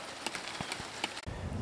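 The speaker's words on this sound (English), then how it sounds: "it's raining on my work." Rain patters steadily on an outdoor off-grid solar work area, scattered drops tapping nearby surfaces over a continuous soft hiss, close and moderately loud.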